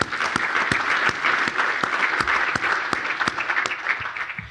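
A conference audience at a Pennsylvania business and industry environmental event applauds its sponsors, with dense, steady clapping from a sizeable crowd that continues throughout at a fairly loud level.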